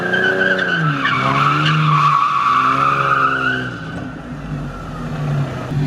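A V6 Ford Mustang Foxbody drifting on the street, tires squealing in a loud rising and bending screech for several seconds over engine roar, then fading to road noise.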